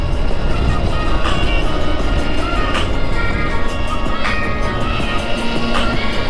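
A Honda Shadow motorcycle picking up speed on a road near Red Rock Canyon, with a continuous loud engine and wind roar that holds steady throughout.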